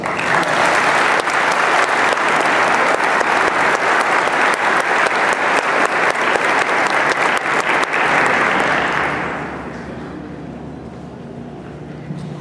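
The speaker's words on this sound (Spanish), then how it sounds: "Recibámoslo con un fuerte aplauso." An audience at a Tec de Monterrey graduation ceremony applauds to welcome an engineer taking the stage, a loud, dense wash of clapping that holds steady before easing off into quieter lingering claps near the end.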